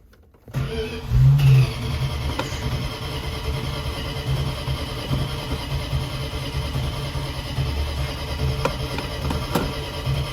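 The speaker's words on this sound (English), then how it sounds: "she fired up and idled" A 1969 Dodge Dart GT convertible's V8 cranks and fires after sitting, a brief loud catch, then settles into a steady rough idle close by.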